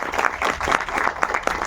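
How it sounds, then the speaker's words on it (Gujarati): Audience applause at a Gujarati film premiere night in Junagadh, a sustained burst of many hands clapping at once, lively and fairly loud, with no talk on top. "એકવાર જોરદાર આ છોકરાઓ માટે તાળીઓ"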